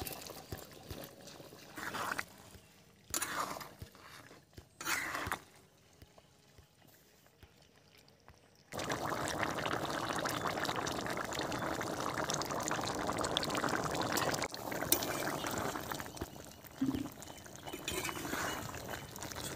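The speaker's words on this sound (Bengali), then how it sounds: "ঝোল ফুটে গেছে, মাছটা এবারে আমি দিয়ে দেব।" Small mourola fish go into a boiling curry broth made with ground spice paste. A few scattered splashes and clinks come first, then a loud, steady bubbling and sizzling boil continues to the end.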